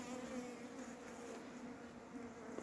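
A honeybee buzzes steadily and close during beekeeping while liquid oxalic acid is applied to the hive, a continuous droning hum with no talk.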